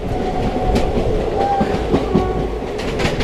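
The 14123/24 Intercity Express passenger train runs on rails between Kanpur and Lucknow, heard from on board as a loud, steady rumble with rhythmic clickety-clack wheel beats on the track joints.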